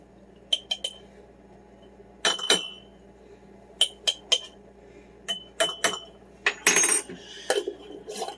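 Ground cumin being spooned into a row of glass canning jars for Mexican pinto beans, with a series of sharp clinks and taps of metal spoon on glass, spaced irregularly, some quick double hits, no talking.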